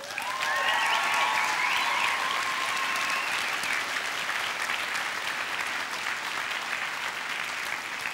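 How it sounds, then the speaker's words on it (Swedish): Theatre audience giving a hearty round of applause for a conductor and orchestra at a Piteå stage show, dense continuous clapping at full strength from start to finish with a few cheers early on. "en rejäl applåd där?"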